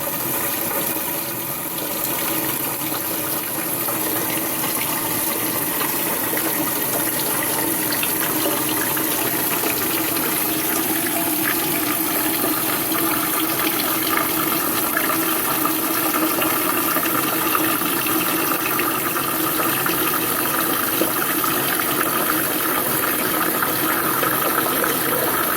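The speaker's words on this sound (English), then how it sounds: "Watch this water flow right here." Water rushes steadily into a Glacier Bay dual flush toilet tank as it refills after the supply is turned back on, a constant close hiss and gurgle filling the whole stretch without talk.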